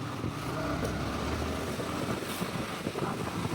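A motorbike engine runs at a steady idle, a continuous low rumble with wind-like noise over it, close and even throughout.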